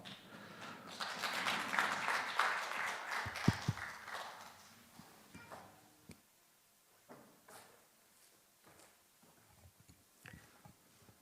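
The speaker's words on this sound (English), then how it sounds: "Ladies and gentlemen, please give him a big round of applause." Audience applause at a conference opening session, broad and fairly loud for the first few seconds, then thinning into scattered claps and faint room noise.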